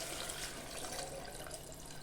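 Water is poured steadily into a cooking pot of homemade chicken haleem, giving a constant close splashing rush with no talking.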